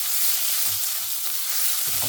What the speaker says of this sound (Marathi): जिंजर गार्लिक पेस्ट ॲड केली. आता ही चांगली फ्राय करायची आहे.